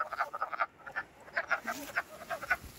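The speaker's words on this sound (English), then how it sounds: "There are so many frogs." Many frogs croaking at a large breeding pond, a dense chorus of overlapping rhythmic calls throughout, near and steady with no talking.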